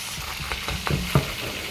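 Scallops sizzling in a frying pan while bread toasts beside them, a soft steady crackle with a few sharper spits and taps as food shifts in the pan.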